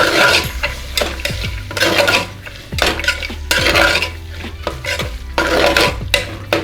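Green peas and peanuts with fried masala are stirred in a pan for masala bhat, giving loud close scraping strokes in bursts over a soft sizzle, with no talk.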